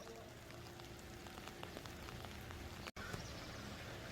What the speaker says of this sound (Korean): 쥐눈깨비가 그냥 눈으로 바뀌어가지고 마구 쏟아지는데